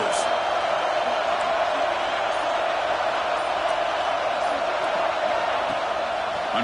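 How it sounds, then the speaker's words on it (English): Steady roar of a packed stadium crowd at a Texas A&M vs Florida college football game, a dense, continuous wash of cheering voices that stays loud and even throughout, with no distinct individual calls. "Listen to the crowd energy here in the early going."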